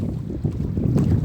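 Strong storm wind roars against a fishing boat out at sea during a net-hauling trip in heavy rain, a dense, blustery low rush buffeting close to the microphone without a break.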